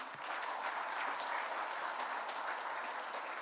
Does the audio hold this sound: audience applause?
yes